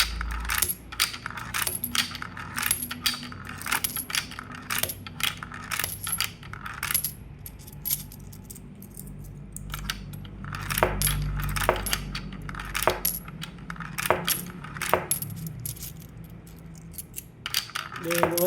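Around twenty coins dropped one at a time into a coin acceptor during calibration, each landing as a sharp metallic clink at uneven intervals, close and distinct over a faint background hum.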